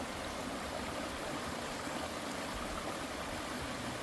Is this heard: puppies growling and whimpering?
no